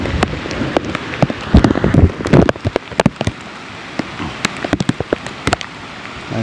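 Heavy rain pours down on Mount Sumbing, a dense steady wash of drops close at hand with sharp louder splats and taps breaking through all the way.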